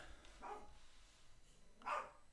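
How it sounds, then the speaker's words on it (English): Two short, faint dog barks about a second and a half apart, the second slightly louder, over a quiet background. "There's the dogs again."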